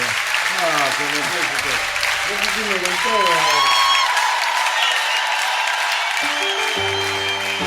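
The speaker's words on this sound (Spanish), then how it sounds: "Nos aplauden y todo." Studio audience applause on a Spanish-language TV program, a dense wash of clapping that runs throughout, under bright musical tones and gliding synth sounds as the show wraps up.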